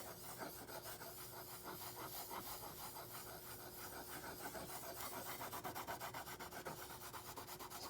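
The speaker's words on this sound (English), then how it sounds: "In theory, an Arkansas stone polishes while sharpening." A plane iron is stroked back and forth on an Arkansas sharpening stone, a faint, steady gritty rubbing in rhythmic passes with no speech.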